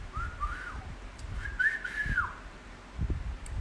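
A person whistles two short rising-and-falling phrases, fairly clear and moderately close, separated by a brief pause, over low background rumble and faint bumps.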